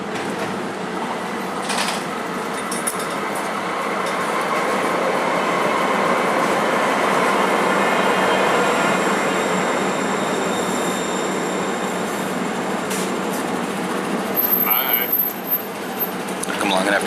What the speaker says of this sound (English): Here comes your train.